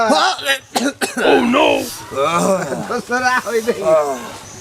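A man coughs a few rough, close times in a Bangla comedy sketch about catching a cold in hot weather, with speech following the coughs.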